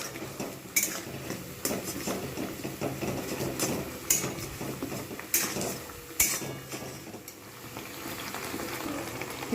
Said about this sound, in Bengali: মশলার সঙ্গে আমি কিন্তু এটা কষবো।